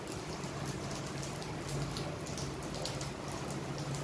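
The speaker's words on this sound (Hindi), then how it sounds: "कितना तेज बारिश हो रही है आज।" Heavy rain pours down in a steady, dense hiss of drops, with no voices over it.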